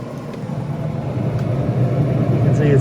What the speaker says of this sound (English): The fan is blowing the ash around.